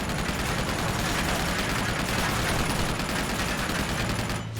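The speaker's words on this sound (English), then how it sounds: "No, I have to shoot it." Continuous gunfire from the video game Uncharted 2: Among Thieves, a dense unbroken stream of shots and blasts that stays loud and steady throughout before cutting off abruptly, with no talking.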